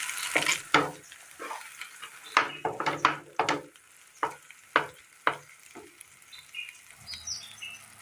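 Ground pumpkin fries in ghee while a spoon stirs it, giving a close series of sharp scraping and clattering strokes over a soft, steady sizzle.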